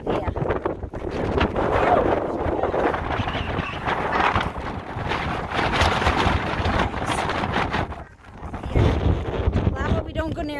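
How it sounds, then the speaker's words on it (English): Strong gusts whip across an exposed New Hampshire mountain trail on the Appalachian Trail, buffeting the microphone in loud, roaring surges with a brief lull near the end, as people talk over it. "The wind is whipping."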